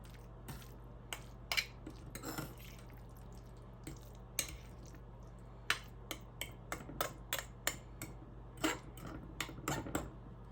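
A spoon clinks and taps against a pan while risotto with Romano cheese is stirred, giving quiet, irregular scraping clicks spread over several seconds.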